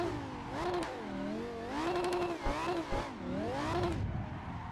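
A drift-built Lamborghini rises and falls through swooping, wavering engine revs at full throttle, loud and close, with the pitch climbing and dropping several times.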